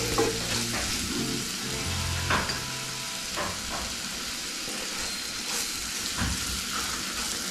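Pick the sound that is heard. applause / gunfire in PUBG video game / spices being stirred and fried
spices being stirred and fried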